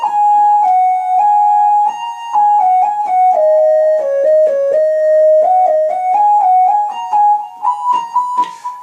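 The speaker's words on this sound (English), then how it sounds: "If I played it straight with no aftertouch, it would sound like this." An ARP Pro Soloist patch on a Yamaha S30 keyboard, played straight without aftertouch: a loud, clear monophonic lead line of sustained and gliding notes, alone with no talking.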